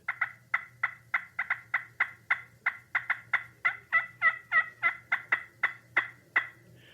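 Cutting on a slate turkey call comes as a fast, uneven run of about twenty sharp, raspy clucks and yelps, close and loud, bunching together in the middle before trailing off.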